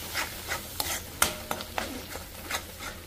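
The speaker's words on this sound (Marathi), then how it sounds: "वाटलेला मसाला, तेलामध्ये मी मसाला छान परतून घेते" Ground masala being sautéed in oil for a prawn fry, a spatula scraping the pan in quick, regular strokes over a soft sizzle, close and fairly loud.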